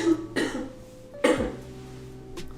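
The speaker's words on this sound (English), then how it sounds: "Sorry, I tried to fight that cough, but it was gonna happen" Two sharp coughs from a person indoors, one near the start and a louder one about a second later, each a brief harsh burst trailing off into a quiet room with a faint steady hum.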